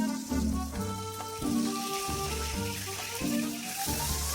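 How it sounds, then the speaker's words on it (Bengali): Marinated Bata fish fries in a pan with a soft, steady sizzling hiss. Background music with pitched, repeating notes plays loudly over the sizzle throughout. "মাছগুলো মাখানো হয়ে গেছে, এরপর আমি ভেজে নিচ্ছি।"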